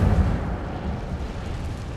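An Incendio fire spell cast in Hogwarts Legacy inside a cave: a brief, deep roaring whoosh of flame with a rumbling low body that starts strong and slowly tapers over about two seconds.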